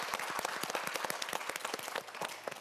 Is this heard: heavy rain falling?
no